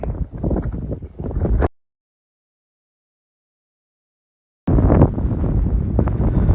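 Strong wind batters the microphone on an open hilltop at Crugyn Ci in the Elan Valley, loud roaring gusts that cut to complete silence for about three seconds before blasting back in.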